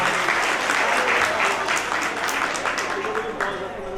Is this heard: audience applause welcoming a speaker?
yes